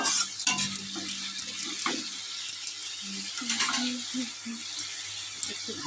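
A splash of water hitting a hot pan of fresh garden mushrooms and vegetables, giving a soft steady sizzle with light utensil clinks while someone talks nearby.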